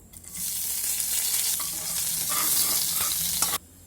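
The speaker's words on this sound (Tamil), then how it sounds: "இப்போ எண்ணெய் காஞ்சோன்னு குட்டியாக நறுக்குன பூண்டு, கருவேப்பிலை இதையும் ஆட் பண்ணிக்கலாம்." Finely chopped garlic and curry leaves sizzle in hot oil with a loud, steady crackling hiss, a few stirring clinks, then it cuts off abruptly.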